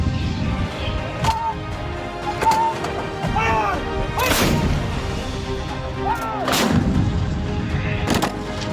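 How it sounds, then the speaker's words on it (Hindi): Pinaka rocket artillery firing during an India-US desert military exercise, several loud, sharp blasts and whooshing launches spaced a second or two apart, with rumbling echoes between them. "यह है हिंदुस्तान की सबसे मजबूत ताकत पिनाका मिसाइल।"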